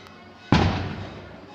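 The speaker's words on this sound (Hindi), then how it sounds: "आई एम रियली सॉरी पटाखों की ये आवाज़ की वजह से" A single Diwali firecracker bursts with one sharp, loud bang, then decays into a fading rumble against a quiet background.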